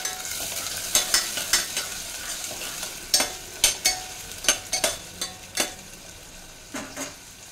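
Onions and a bay leaf frying in hot oil for tomato rice, a steady sizzle broken by repeated sharp scrapes and taps of a spatula against the pan in an irregular rhythm, close and fairly loud.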